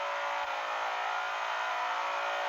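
A BMW M5's naturally aspirated V8 drones at high revs in the Assoluto Racing game, holding a steady, even engine whine for the whole stretch with no talk.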